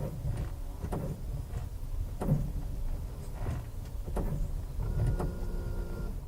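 A 2019 Toyota RAV4 SUV's brakes give off a drilling sound, heard as repeated short whirring, grinding bursts spaced about a second apart over a low, steady background hum, fairly faint and alone.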